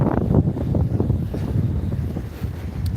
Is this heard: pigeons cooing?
no